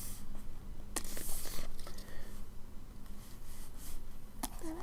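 Pen or marker scratching out chemical equations on a board, a steady faint writing scrape with a few sharp taps, close and alone.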